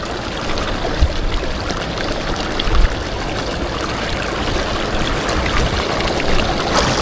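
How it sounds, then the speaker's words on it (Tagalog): Salt water surging in beneath shoreline rocks at high tide, a steady close gurgling rush with brief louder splashes, continuous throughout with no voices. "Yan po ay tubig alat naman yung pumapasok na yan diyan sa ilalim po ng bato."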